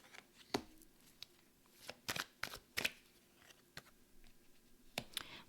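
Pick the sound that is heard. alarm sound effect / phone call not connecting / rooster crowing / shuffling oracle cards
shuffling oracle cards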